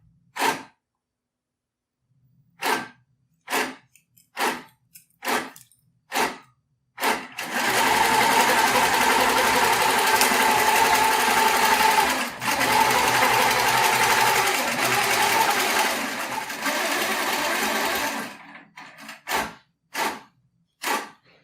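A sewing machine quilts a baby quilt, first in a series of short separate bursts, then in one long continuous run of rapid stitching, then in short bursts again, loud and close.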